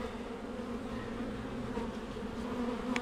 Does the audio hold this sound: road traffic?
no